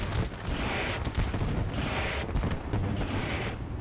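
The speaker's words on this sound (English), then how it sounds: "They do the fireworks at the start of the race." Fireworks crackle and pop at the green-flag start of a race at Eldora Speedway, a dense run of bursts and booms that repeats several times over a steady engine roar.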